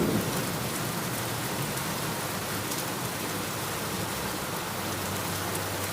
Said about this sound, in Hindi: तभी तेज बारिश के साथ साथ ओले भी गिरने लगे।